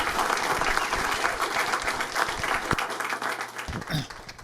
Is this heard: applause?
yes